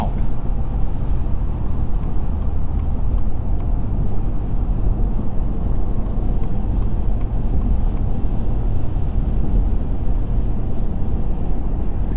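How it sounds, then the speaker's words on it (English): Constant low road roar from tires rolling over a concrete highway at speed, a steady broadband rumble heard from inside a 2024 Ford F-150 STX 2.7 EcoBoost pickup. "in this concrete section, you can hear the tires"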